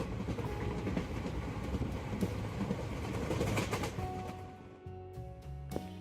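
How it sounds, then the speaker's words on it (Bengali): A train pulls into a station at night, its wheels rumbling and clacking loudly before the noise eases and thins as it slows to a halt. "3 মিনিট পর ট্রেন এলো।"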